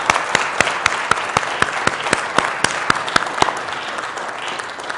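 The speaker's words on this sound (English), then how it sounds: "A round of applause to kick things off?" Applause at a stock exchange closing bell ceremony in Times Square, New York, comes as sharp, evenly spaced claps about four per second over a bed of crowd noise, loud and near, fading slightly toward the end.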